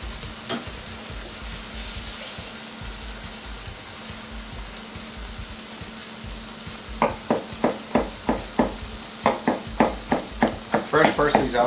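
Spaetzle browning in a frying pan: a steady low sizzle at first, then a run of quick scraping and stirring clacks from a utensil against the pan, close by, with some talk in the background.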